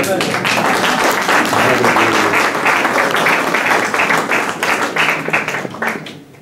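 A church congregation bursts into sustained, loud applause at a Christian service. Dense clapping holds steady for several seconds, then thins and fades at the end, with voices cheering faintly underneath.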